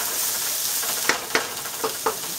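One pound of okra roasting in a pan with a teaspoon of oil, a steady hissing sizzle broken by four distinct stirring scrapes in the second half, no voices.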